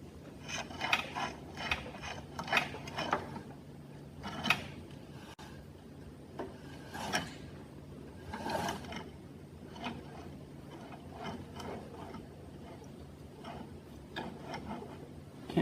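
The flywheel of a 400cc drag bike, hand-turned during a build, gives a close, irregular series of ticking and grinding scrapes, clustered in short bursts with quiet gaps, and no talking.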